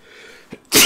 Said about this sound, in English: A little bit of a sneeze going on.